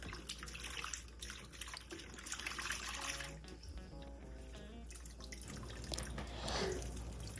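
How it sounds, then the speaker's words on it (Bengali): Sliced bitter gourd is dipped and washed in water, producing steady splashing and dripping with small sloshes and trickles throughout, fairly close and continuous with no speech. "করলা কিন্তু এভাবে ডুবিয়ে ডুবিয়ে ধুয়ে তারপরে চিপে চিপে নেবেন"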